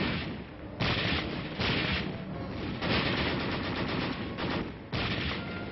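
Street battle in the Korean War city of Taejon, with dense gunfire and artillery: continuous crackling volleys and heavy booming bursts in a loud, unbroken barrage, with several sharper surges of fire and no voices.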